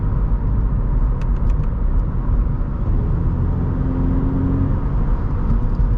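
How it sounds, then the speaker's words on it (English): A 2013 Subaru BRZ cruises in sixth gear at about 1500 RPM and 45 mph on a back road. A steady low engine rumble and road hum carry throughout, with no voices. "Cruising at 6th gear, about 45 miles an hour, about 1500 RPM"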